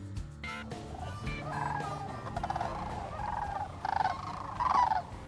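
Sandhill cranes fly in over trees during a crane hunt, their rolling, warbling bugles calling repeatedly from several birds, fairly loud and overlapping.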